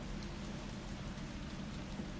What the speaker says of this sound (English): even though the rain is pouring down